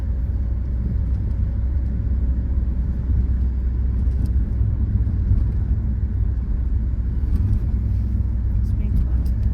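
A car drives steadily at about 30 during a driving lesson, a constant low engine and road rumble filling the cabin while people talk over it.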